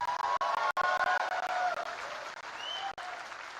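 An audience applauds at the Bangalore Tiprasa Cultural Festival 2024, breaking into dense, steady clapping from a crowd during a speech, moderately loud with a few faint voices and cheers mixed in.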